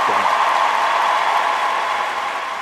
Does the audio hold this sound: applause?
yes